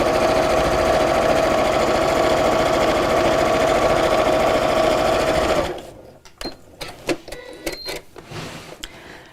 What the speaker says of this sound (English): So we're going to sew all the way down all of these lines